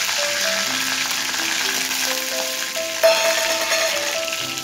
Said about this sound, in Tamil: இது எல்லாம் எண்ணெயில் வறுபடட்டும்.